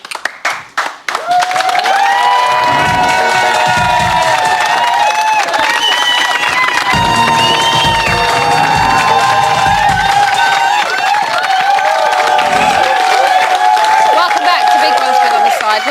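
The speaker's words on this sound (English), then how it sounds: "Give them a round of applause for the panel" A studio audience on a Big Brother UK 2014 spin-off show cheers and applauds the panel, a loud sustained crowd roar with whoops over dense clapping that carries on throughout.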